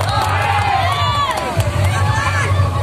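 A lively crowd at a sound-system battle during a takbir event in Kenongo, Wagir, cheers and shouts together, a loud continuous roar of voices with excited whoops rising over it.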